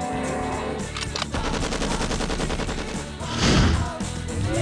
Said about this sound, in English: And now, Symphony for a Machine Gun.